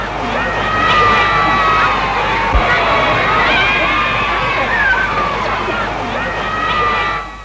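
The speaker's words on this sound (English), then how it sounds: "all East London has turned out to wave and cheer King George and Queen Elizabeth" A large East London crowd cheers and shouts to welcome King George and Queen Elizabeth, a dense, loud, sustained roar with high children's voices on top that fades near the end.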